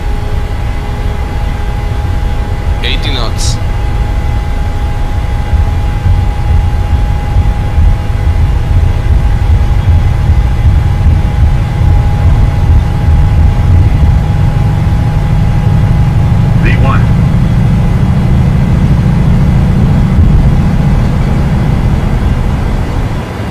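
Simulated airliner engines at takeoff thrust in Microsoft Flight Simulator on a Portland (KPDX) to Dallas (KDFW) flight: a loud, steady low roar that builds in strength throughout, with a steady whine and a couple of brief chirps over it.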